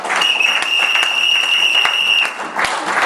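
A church congregation claps loudly and steadily for the King of Kings, a dense, continuous wash of applause, with a sustained high whistle sounding above it through most of the stretch.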